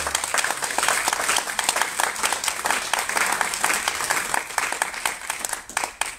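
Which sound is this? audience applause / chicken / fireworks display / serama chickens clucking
audience applause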